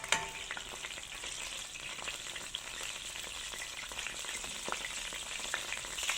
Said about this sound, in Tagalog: habang inaantay po natin ang pagkulo ng ating mantika o pag-init